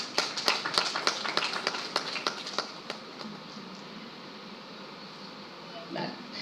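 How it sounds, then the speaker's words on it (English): A conference audience claps in sparse, uneven bursts that are loud and distinct at first, then thin out and fade over the next few seconds into a quiet room. "we all can put together hands once again to applaud everyone there"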